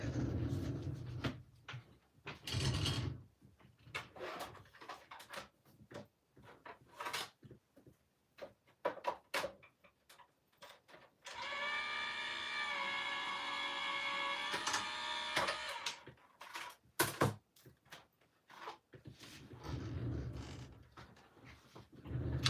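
A craft die-cutting machine grips beveled folded card stock and pulls it through, giving a sustained mechanical whir and rumble in the middle. Scattered clicks, knocks and handling noises surround it, all fairly quiet and close.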